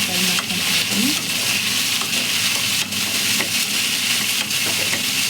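Ivy gourd (tondekai) frying in a pan for a Mangalore-style sukka: a constant loud hissing sizzle, close up, with a few faint taps and scrapes, no talk.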